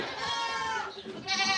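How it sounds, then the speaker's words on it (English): Newborn baby goat kids, triplets on a family farm, bleating in two close, loud, wavering cries, the second rising sharply after a brief pause. "Baby goats, baby goats, baby goats,"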